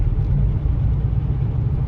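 A 1984 Oldsmobile Omega, a GM X-body car, gives off a steady low engine rumble that holds evenly throughout, close and fairly loud, with a faint whir above it and no one talking.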